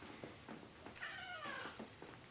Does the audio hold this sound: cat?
yes